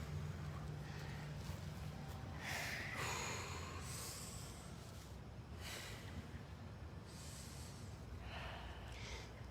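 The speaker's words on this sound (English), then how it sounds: "let's do 6 deep breaths together" Slow, deep belly breaths are drawn in and let out in a steady rhythm, heard as close, soft rushes of air over a low background hiss.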